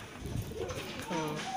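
Domestic pigeons cooing near the listener, a few soft, low, rolling calls over about a second and a half, with light background noise and no speech.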